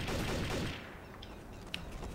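Rapid burst of gunfire in the video game Trouble in Terrorist Town, loud and dense for under a second, followed by fainter scattered shots and a sharp single report near the end.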